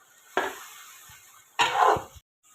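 Mutton pieces with spices being roasted (bhuna) in oil in a pan, two bursts of sizzling and stirring scrapes separated by a quieter simmering hiss, close up.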